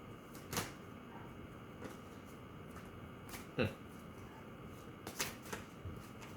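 Tarot cards shuffled by hand with a worn, well-used deck, giving soft papery riffles and a few sharper snaps spread over several seconds under quiet room tone, with no talking.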